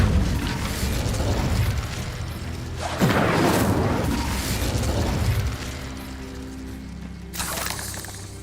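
A fire spell cast in Hogwarts Legacy bursts out with a loud whooshing boom, its blast swelling and trailing into a rumbling roar before a second burst flares near the end, with no one talking.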